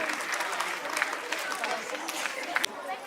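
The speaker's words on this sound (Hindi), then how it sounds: "जिज्ञासा के बच्चों के लिए जोरदार तालियां।" A school cultural fiesta audience claps for the Zigyasa children, fairly faint, dense applause with scattered sharper claps, heard under a murmur of voices.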